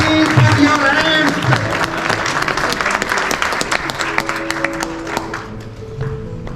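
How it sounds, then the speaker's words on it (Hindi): Applause breaks out at a yoga club's annual celebration in Bhurban, loud and busy at first with crisp individual claps, then thinning toward the end while music and voices carry on underneath. "भरपूर तालियों में प्लीज पुट योर हैंड्स।"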